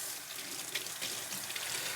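Warm water pours into the tank of a eufy S1 Pro robot vacuum and mop, a steady close splashing and trickling that runs for about two seconds with no talking.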